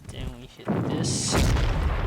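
Artillery fire in the Panzer Corps strategy video game: a short pair of booming blasts with a crackling burst, loud and close, after a brief low rumble.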